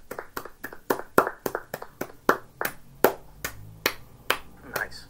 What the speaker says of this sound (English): I should start clapping